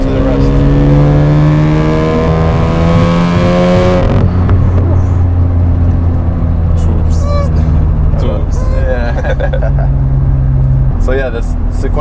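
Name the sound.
Mazda RX-7 FD sequential twin-turbo rotary engine revving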